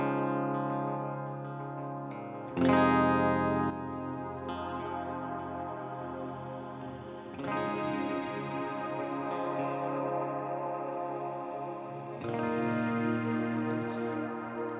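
Electric guitar chords played through an amp, a few sustained strums that ring out fully and fill the space between changes.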